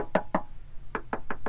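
Knuckles rap on a Bondo-filled body panel of a Firebird, two close hollow knocks followed after a pause by four evenly spaced knocks, loud and near.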